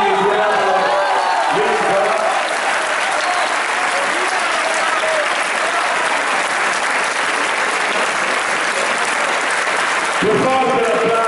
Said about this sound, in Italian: più forte l'applauso